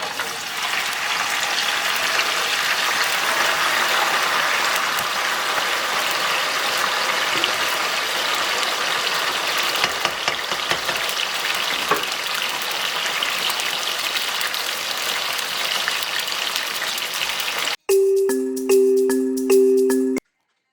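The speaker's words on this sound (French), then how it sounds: "je vais commencer par faire frire mes pommes de terre" Potato pieces frying in oil give a dense, steady bubbling sizzle that runs for about eighteen seconds before it stops abruptly, followed by a short tonal musical jingle.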